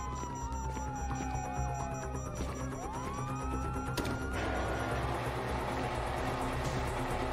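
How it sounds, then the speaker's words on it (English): Police sirens wail and sweep up and down through a loud, busy scene from the video game Grand Theft Auto 5, with rumbling traffic and crashes beneath and a steady roar of action noise. "you hear that? Sirens!"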